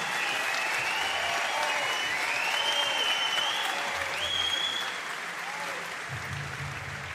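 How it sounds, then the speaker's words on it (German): Crowd applause at an MMA heavyweight title event in Hannover, sustained and dense for the whole stretch, with a whistle-like tone gliding over it and the noise easing slightly toward the end. "Applaus für Kevin Hansen und Mohamed Omar Khorram."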